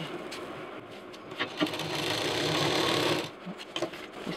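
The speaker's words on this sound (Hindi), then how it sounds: "अब इसको हम यहाँ पर बराबर से रखते हुए इसको सिल देंगे" A sewing machine runs in one continuous, close stitching burst as a quilted fabric pocket is sewn onto a handmade backpack, with lighter handling clicks before and after and no talking.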